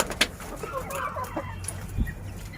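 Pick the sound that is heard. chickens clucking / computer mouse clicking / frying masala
chickens clucking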